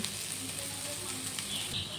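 Bitter gourd slices fry in a wok, giving a soft, steady sizzle with light crackle from start to finish and no voices over it.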